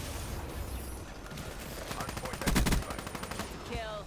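Rapid gunfire from a first-person shooter video game, with bursts of shots building to a loud, dense volley mid-clip, heard under steady game noise and a voice talking.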